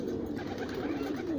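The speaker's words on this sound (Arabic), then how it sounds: "ده هو الحمام مطمن خالص." Pigeons coo softly inside their loft, a low continuous murmur of several birds, quiet and steady with no one talking.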